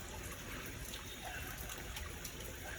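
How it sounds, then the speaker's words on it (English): Rainwater runs steadily off the edge of an extended tarp during the Guatemalan mountain rainy season, a constant close trickling and splattering that fills the moment with no talk. "now the water falls perfectly"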